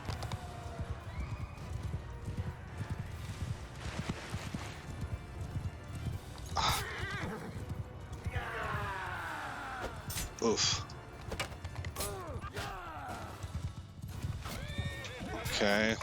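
Horses neighing and whinnying repeatedly in the video game Crusader Kings 3, several loud whinnies over constant clip-clopping hooves and battle noise, with someone briefly speaking.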